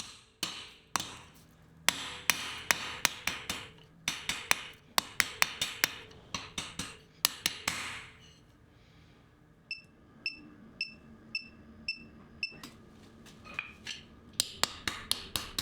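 Rebar being hand-forged with a hammer, sharp metallic strikes landing in quick rhythmic bursts, then a gap and a slower series of lighter ringing taps, close and clear.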